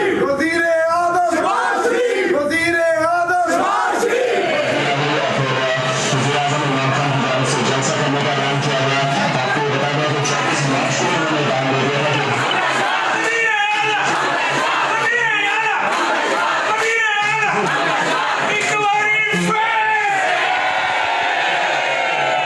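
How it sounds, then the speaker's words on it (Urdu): Political supporters in Lahore chant slogans for the prime minister and the chief minister: a loud crowd of voices shouts in a rhythmic call-and-response with swelling cheers, and a steady din runs underneath. "وزیر اعظم شہباز شریف اور وزیر اعلیٰ حمزہ شہباز کے نعرے بھی لگائے"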